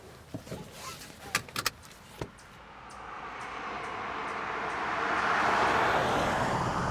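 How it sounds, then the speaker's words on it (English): 2022 Volvo C40 Recharge electric car setting off: a few clicks and thumps, then a smooth whooshing road and motor noise that rises steadily as the car gathers speed, with no engine rumble. "let's put this machine in motion and see how it performs."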